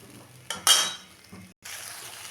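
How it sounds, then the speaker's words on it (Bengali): Stirring fried cauliflower and paneer in a pan, with metal spoon scrapes and clinks over a soft sizzle, one louder scraping burst, then a steady frying hiss. "এটা কিছুক্ষণ নেড়ে চেড়ে মিশিয়ে নেব।"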